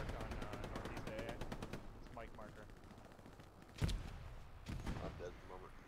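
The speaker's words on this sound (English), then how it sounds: "Bomb and run coming. Or a strafe and run." In the WWII shooter Hell Let Loose at Saint Marie Du Mont, an aircraft strafing run opens with a rapid stream of machine-gun fire, followed by a few heavy, sharper impacts, with faint voices in the background.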